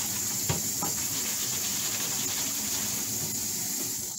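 Water from a kitchen tap pours over frozen gungo peas in a bowl, a steady, close, even hiss for a few seconds, with faint knocks under it.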